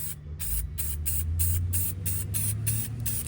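An aerosol can sprays gloss clear coat onto a Honda S2000 in a steady, close hiss broken by short gaps between passes, heard alone without talk.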